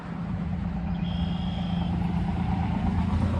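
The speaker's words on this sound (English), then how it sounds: "I'm sure you can hear the traffic now." Busy road traffic heard on a warm day's walk past a fountain: a steady, close roar of passing cars and trucks with low engine rumble, continuous throughout with no talk.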